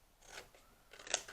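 Scissors snip through paper or card in a few quick, crisp cuts, close and fairly faint, with a sharper final snip, during a small Christmas house craft project.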